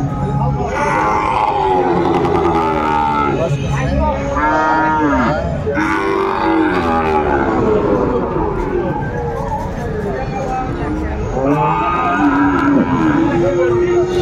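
Sahiwal bull calves moo loudly and repeatedly at a busy cattle market in Madaripur, their long drawn calls overlapping amid constant crowd noise and voices.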